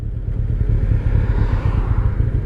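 A 2003 Kawasaki ZR7S motorcycle engine idles roughly in the cold, a close, low, uneven chugging pulse that wavers as if about to stall.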